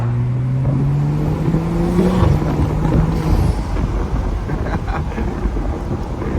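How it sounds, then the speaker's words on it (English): Heavy wind roars and buffets during a night drive in a BMW F30 335i Stage 2+, a loud broadband rumble with an engine tone rising briefly underneath at the start. "It's mad windy though."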